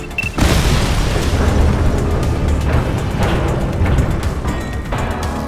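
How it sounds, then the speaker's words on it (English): A heavy blast booms in the police game The Precinct, followed by several seconds of rumbling debris and scattered secondary bangs, loud and close. "We may not have the time to stop the explosion."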